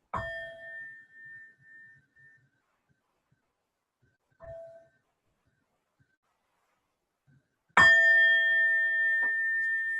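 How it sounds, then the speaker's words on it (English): A bell rings clearly, its tone decaying into silence, followed by a faint tap and then a second louder strike that rings on sustained. "I was just ringing a bell."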